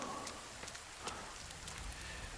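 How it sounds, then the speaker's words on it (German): Steady rain in the survival game The Forest, a continuous hiss of drops on surfaces with scattered sharper droplet ticks, at an even, moderate level throughout with no talking. "Es regnet"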